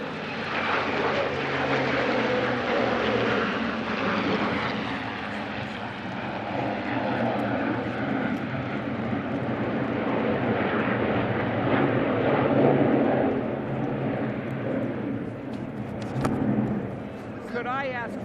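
United States Air Force Heritage Flight aircraft pass over a D-Day 75th anniversary commemoration; a loud, sustained engine roar swells and fades over the ceremony while an announcer speaks over it.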